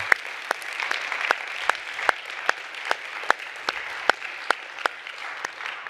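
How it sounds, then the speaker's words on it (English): Audience applause fills a conference hall at a tech summit: dense, steady clapping from a sizable crowd with a few sharp, louder claps standing out in a regular pattern, sustained throughout with no talking. "another round of applause for all of the digital Sherlocks"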